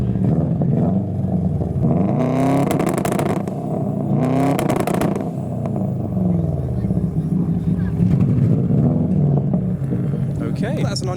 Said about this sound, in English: Okay, that's an unusual exhaust.